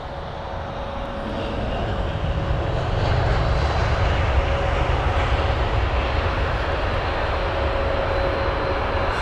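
Airbus A319 jet arriving at London Heathrow, a steady loud broadband engine roar swelling over the first few seconds and then holding, with a thin sustained whine riding on top, no voices.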